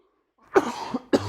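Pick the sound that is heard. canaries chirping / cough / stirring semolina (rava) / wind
cough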